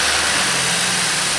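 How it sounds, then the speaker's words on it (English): A Chevy Impala with a hard-start-after-refueling fault idles in a brief burst, a steady, close, low engine hum with no voices. "Let's go ahead and start the car."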